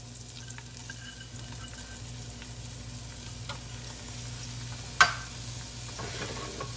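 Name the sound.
onions sizzling in butter and olive oil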